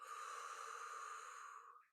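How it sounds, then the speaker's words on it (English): Breath drawn in steadily through the nose during a yoga-style breathing exercise, one smooth, sustained inhale lasting nearly two seconds, close and soft, fading out at the end with no talking. "In, sniffing in, sniff in, sniff in, exhale mouth."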